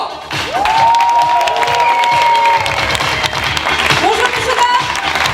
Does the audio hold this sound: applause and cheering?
yes